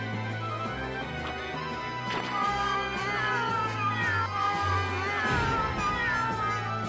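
Cats meowing as they are thrown around in the video game Ephemeral Fantasia, mixed into busy game music with some thuds and crashes, moderately loud throughout.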